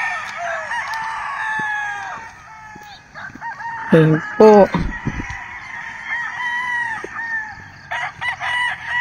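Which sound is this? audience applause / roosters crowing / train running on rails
roosters crowing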